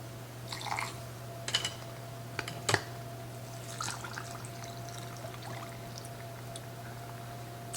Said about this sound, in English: when the water goes down, it's going in between all that meat and it's gurgling